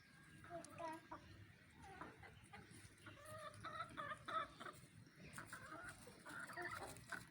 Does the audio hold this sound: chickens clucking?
yes